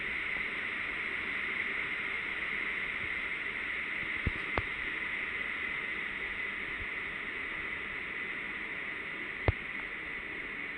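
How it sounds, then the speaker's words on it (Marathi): Steady broadband spray of water jetting onto a Benz truck during a wash, continuous and close, with a few brief clicks and no talking. "आपण आपल्या हाताने बघू, आपलं जेवढं पाणी मारतं तेवढं मारू."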